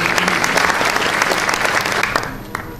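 Theatre audience at an international short-theatre festival applauding, a dense burst of clapping from the crowd that fades slightly toward the end.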